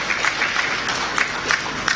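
Members of an audience at a labour externalisation event clap together in a moderate, continuous patter, with a few louder individual claps rising out of the steady wash.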